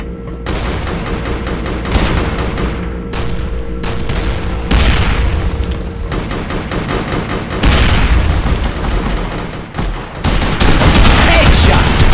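Heavy gunfire in the District 187 shooter game, with dense bursts of automatic fire and booming shots running almost continuously at high volume, mixed with game voices.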